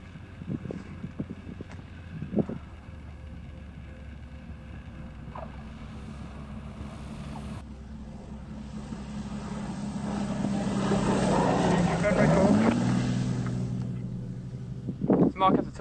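An Extra 300L aerobatic plane lands on a runway during a world record attempt, its engine drone swelling in the middle as it passes near, with wind buffeting the microphone and brief voices.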